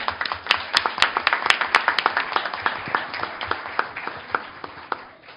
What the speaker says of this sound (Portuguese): peço uma salva de palmas